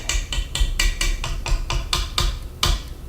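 A whisk is banged against the side of a mixing bowl to knock out pecan diamond bar dough, giving about nine sharp, evenly spaced knocks over a few seconds, close and clear.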